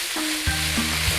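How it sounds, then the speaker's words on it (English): Beef udon noodles tossed and stir-fried in a hot pan, heard as a brief, loud, close sizzle with a clunk of the pan and tones from a cooking appliance under it. "So toss it over in the pan"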